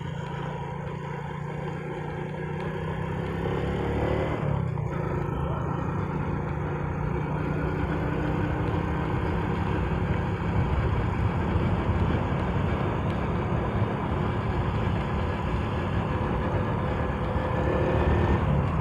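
A motorcycle engine runs steadily during a roadside test near Calamba, a continuous close rumble with a brief rise partway through and no talk over it.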